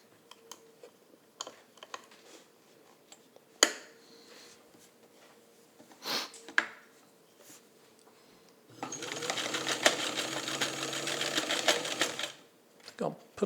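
A serviced Kenmore 117.55 rotary sewing machine stitches through four thick layers of fabric, a loud steady whir lasting several seconds after scattered clicks and handling noises, with a voice talking nearby.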